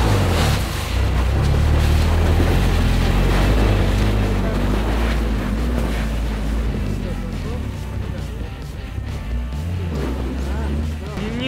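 A Lada Niva Travel crawls through snow off-road in low-range gear, its engine droning steadily and loudly throughout, revs sagging under load while someone talks over the constant engine noise.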